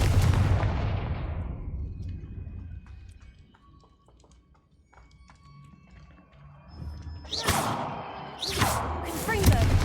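A Confringo fire-blast spell cast in a Harry Potter-style video game, a loud booming blast that decays into quiet, followed later by several sharp bursting explosions, with a voice calling out spell names.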